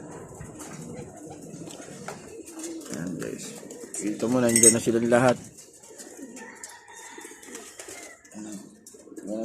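Racing pigeons coo in a loose cluster close by during a family breakfast, a brief swell of throaty calls rising over someone talking casually, with birdsong and household noise around them.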